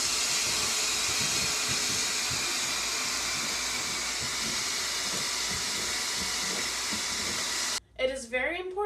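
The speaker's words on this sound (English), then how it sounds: "And then vacuum it out one more time to get all the dust out" A vacuum draws dust out of a freshly cut hole before a patch goes in, a steady loud whooshing roar that runs without a break for nearly eight seconds, then stops as a voice begins.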